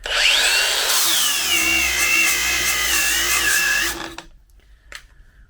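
A Bauer brushless angle grinder spinning at 10,500 RPM and grinding under heavy pressure, a loud close whining roar that holds for about four seconds, then stops abruptly, leaving quiet handling noises.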